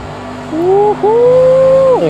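Race car engine at full throttle in the Project Cars 2 racing game, a loud rising whine that dips briefly at a gear change then climbs again and drops off at the end.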